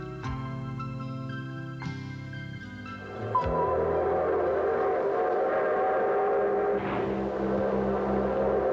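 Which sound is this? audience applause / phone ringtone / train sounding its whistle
train sounding its whistle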